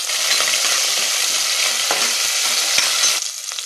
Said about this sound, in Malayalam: ഇനി ഉഴുന്ന പരിപ്പ്, കടലപ്പരിപ്പ്, പച്ചമുളക്, കറിവേപ്പില, പച്ചമുളക്, ഇഞ്ചി എന്നിവ ചേർത്തൊന്ന് വഴറ്റാം